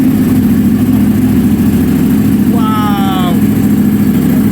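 A race-ready Ducati Panigale V4 superbike idles with a steady, loud engine drone, rising in a brief rev partway through while a voice exclaims.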